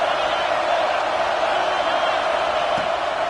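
A football stadium crowd sends up a steady, dense roar during a drive against the offense. The sound holds at one level throughout, with a commentator's voice faintly present.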